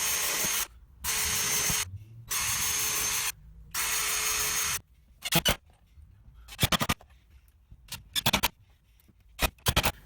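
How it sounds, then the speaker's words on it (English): A power drill pre-drills holes in the wooden top of a pocket-hole workbench, then drives screws in to secure it. It begins with three long, steady whirring bursts, followed by shorter stuttering pulses of screws being driven home, all close by. "I'm just going to pre-drill and then drive the screws in"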